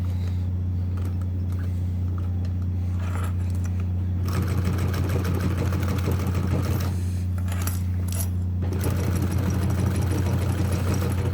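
A sewing machine running a W stitch hums steadily, with bursts of faster rattling stitching in two stretches, close and loud, no talking.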